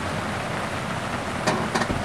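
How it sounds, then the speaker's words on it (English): Rain falling outdoors makes a steady broadband hiss that holds even throughout, with a couple of brief sharper taps near the end and no voices. "the rain is still coming down"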